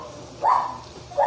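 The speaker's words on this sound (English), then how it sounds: "That's my neighbor's dog." A neighbour's dog barks in the background, one short mid-pitched bark followed by another starting at the very end, sounding somewhat distant against a quiet room.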